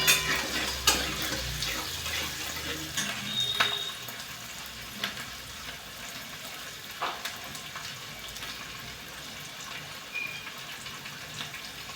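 Onion and green chili frying in a kadhai over a high gas flame, a steady close sizzle with a few sharp clinks early on and no talking.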